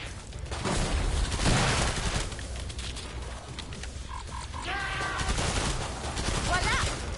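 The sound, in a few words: gunfire from shooting in the video game Killing Floor 2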